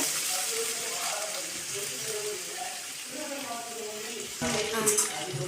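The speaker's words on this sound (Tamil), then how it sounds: "இப்போ ஆயில் ஊற்றிருக்கேன் இப்போ முருங்கைக்கீரையை கழுவி நான் அதில் வைக்கிறேன்" Washed, still-wet drumstick leaves hit hot cooking oil in a home kitchen pan, giving a steady hiss and sizzle that swells loudly near the end, with someone talking over it.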